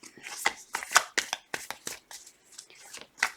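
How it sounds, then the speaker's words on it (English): Tarot cards being shuffled: a string of quick papery riffling bursts, close and fairly quiet, coming in uneven flurries with short gaps between them. "Two more shuffles."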